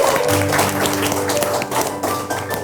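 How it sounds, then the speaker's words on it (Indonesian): An audience applauds at a talk show, a dense, steady wash of clapping that stays loud throughout, with faint voices and tones mixed underneath. "Tapi kita harus kasih tepuk tangan untuk 3 cerita dari teman-teman kita."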